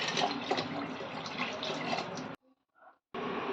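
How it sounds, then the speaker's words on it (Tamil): Water pours steadily into a pressure cooker for mushroom biryani, a full splashing stream that stops briefly with a few drips, then resumes. "8 டம்ளர் தண்ணி ஊற்ற போகிறேன்."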